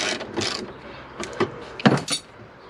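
Last bolt coming out of a Mini R50/R53 rear trailing arm: several quiet, close metallic clicks and clinks of a tool and bolt, with a sharper clank near the end.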